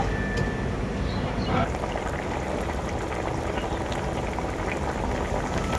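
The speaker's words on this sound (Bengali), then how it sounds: "এরপর আমি ঝোলটাকে খুব ভালো করে ফুটিয়ে নেব" Bottle gourd curry broth boiling steadily in a pot, a dense continuous bubbling hiss that holds at an even, fairly loud level, with a brief clink early on.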